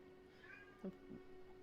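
A house cat meows once for its dinner, a short faint cry from across the room over a low steady background hum, with no talking.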